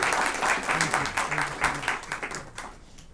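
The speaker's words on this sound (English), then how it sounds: "We can applaud him." A congregation at an interfaith thanksgiving service in a performing arts center applauds, a dense wash of clapping lasting about three seconds with some voices mixed in before it tapers off.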